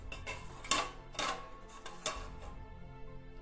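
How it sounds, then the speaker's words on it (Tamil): A few sharp metallic clinks and clatters as a steamer plate is set into a metal pot for steaming urad dal puttu, spaced out over a quiet background. "இதில் இந்த ஸ்டீமர் தட்டை வச்சிடலாம்"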